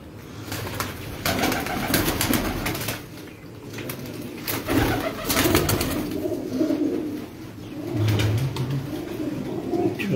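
Pigeons cooing on a rooftop, repeated soft throaty coos at moderate distance with occasional wing flaps and background noise, no talk.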